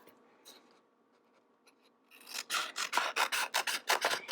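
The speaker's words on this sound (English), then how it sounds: "I'm going to use my scissors and cut my paper so I have a little bit of an overlap." Scissors snip through paper being trimmed to wrap around a cardboard toilet paper tube, a quiet stretch giving way to a quick run of about a dozen close, crisp rasping cuts in steady rhythm.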